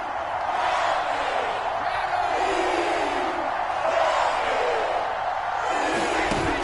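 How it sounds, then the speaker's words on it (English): Dense stadium crowd roar during an American football video game on PS4, loud and steady throughout, swelling into cheers before a big third down with no voices standing out. "the crowd getting into it as we come up on a big 3rd down"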